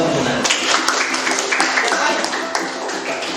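Applause breaks out in a classroom, scattered hands clapping with uneven bursts that fade slightly over a few seconds, with voices mixed in.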